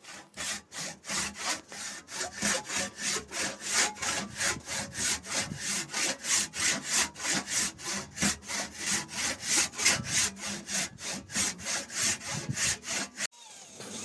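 A hand saw cutting a chunk off a wooden axe handle, with steady rhythmic back-and-forth strokes, close and loud, running continuously before stopping near the end.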